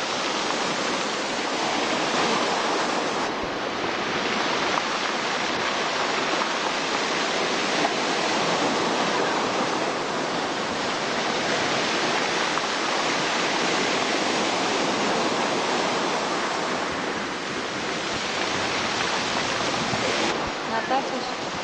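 Rough sea off Capri crashes and churns in a sustained, loud roar of big stormy waves, with swells rising and falling over about twenty seconds and wind noise mixed in.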